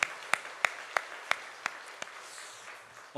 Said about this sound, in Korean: 우리 그 하나님께 감사와 영광의 박수 한번 올려드리기 원합니다.